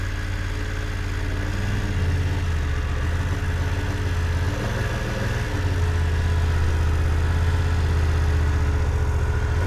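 A motorcycle engine idles and putters at low speed during slow-speed riding practice of U-turns and serpentine exercises, a steady close rumble throughout with a slight change in pitch midway.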